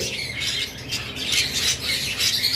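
Breeding pairs of sun conure parrots let out loud, harsh, repeated squawks close by, overlapping in rapid bursts with no talk.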